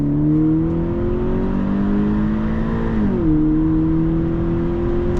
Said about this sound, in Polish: No i ten wóz się zbiera.